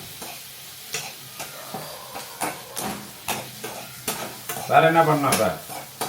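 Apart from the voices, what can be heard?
onions sautéing in a pan for tomato chutney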